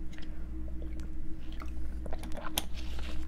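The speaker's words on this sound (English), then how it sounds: "my very loud swallowing sounds" Loud close mouth sounds of someone swallowing while drinking water, wet gulps and small clicks coming in quick, uneven succession over a steady low hum, with no talking.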